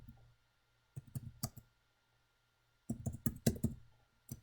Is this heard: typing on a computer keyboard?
yes